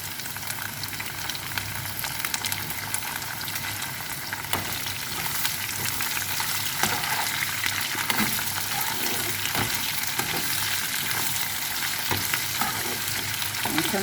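Onions with garlic, ginger and green chillies fry in a pan for an egg dish, a constant loud sizzle with scraping stirring strokes running throughout, close and steady.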